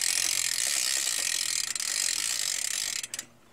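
Rapid, loud buzzing ratchet clicks from a BMX bike's 9-tooth cassette freewheeling close by, steady for about three seconds before stopping abruptly, with no voices.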